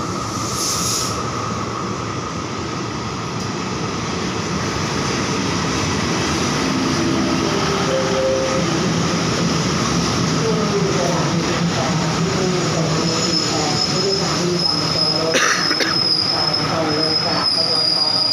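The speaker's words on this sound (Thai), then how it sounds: "มาแล้ว ออกแล้วนะครับรถธรรมดาสองหนึ่ง" Ordinary passenger train 211 pulls out of a Thai station at Chum Saeng, its wheels squealing loudly and continuously over a rumbling roll close by, while someone talks over it.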